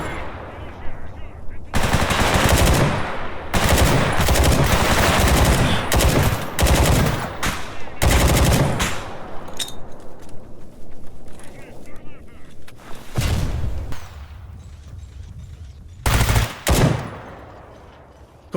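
Loud bursts of automatic gunfire from a new gun with AP rounds in S.T.A.L.K.E.R., long sustained volleys broken by short pauses, close and harsh, with several shorter bursts near the end.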